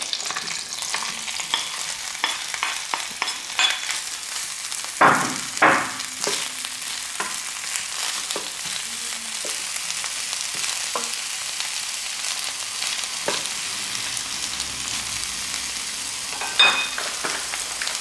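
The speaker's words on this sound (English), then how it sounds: "We'll go ahead and fry and prepare our caramelized barbecue" Onions frying in a pan for caramelized barbecue onions, a constant close sizzle broken by repeated sharp scraping stirs and clacks, with a louder burst around the middle and near the end.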